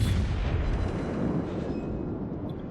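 Heavy naval guns of the HMS Nelson battleship firing in World of Warships, a dense low rumbling boom that rolls and slowly decays over a couple of seconds, loud and close with no talk.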